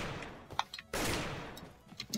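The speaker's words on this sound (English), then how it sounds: "Oh no, somebody's shooting me." Gunfire in a Roblox ragdoll game: a few scattered shots early, then a dense broadband burst of rapid fire lasting close to a second, followed by more sporadic pops, all fairly quiet.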